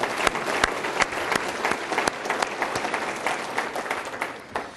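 An audience at a city government address claps in a sustained round of applause, with dense, fairly loud clapping that fades toward the end.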